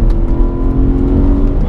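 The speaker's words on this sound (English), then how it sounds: "Now this engine just sings." A BMW M3 E92 engine drones loudly and steadily from inside the moving car, a sustained smooth engine tone with a low rumble underneath.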